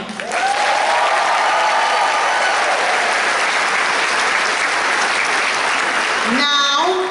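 Loud, sustained applause from a large theater audience at a graduation ceremony fills the hall, steady and dense throughout, with a voice rising near the end.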